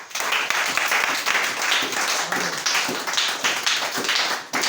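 A church congregation bursts into loud, sustained applause, with dense overlapping clapping and a few shouts running continuously for several seconds.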